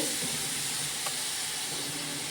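Ginger, onion and garlic paste frying in a hot pan for a Bengali dumur dish, giving a steady, dense hiss and sizzle that stays even throughout, close up with no talk.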